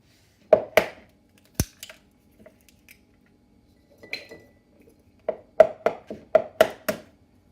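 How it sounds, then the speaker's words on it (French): Three eggs cracked against a bowl for a gluten-free orange blossom and chocolate chip cake: sharp, close taps and clicks in small clusters separated by quiet pauses, with no talking. "On commence par casser les 3 œufs."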